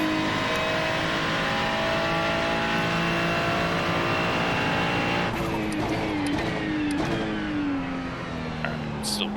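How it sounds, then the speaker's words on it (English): Several cars spinning out on a track exit at Indianapolis Motor Speedway in iRacing during an IMSA multi-class race, with a Ferrari 296 GT3 in the field: steady engine drone, then shifting revs and tire scrubbing as the cars slide. "And we got 2 people spinning on the exit."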